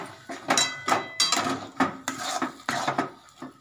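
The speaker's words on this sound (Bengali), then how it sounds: "এটা আবার নাড়িয়ে দিই" Pitha dough being stirred in a metal pan, a string of sharp rhythmic scraping and clanking strokes of a utensil against the pan, close and fairly loud.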